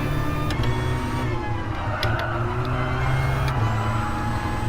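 Diesel car engine lapping the Nurburgring in a racing video game, a steady loud droning rumble with sustained low harmonics and brief rising whines from shifts, running alone without talk.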